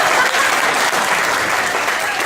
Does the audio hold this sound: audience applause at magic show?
yes